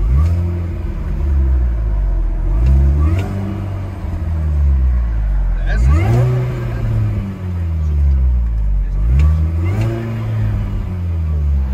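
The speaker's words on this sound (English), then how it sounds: "This one's supercharged with Scorpion exhaust." Supercharged 2003 Mini Cooper S with a Scorpion axle-back exhaust, heard from inside the cabin, the engine droning and rising through several revving gear pulls with a steady road rumble beneath.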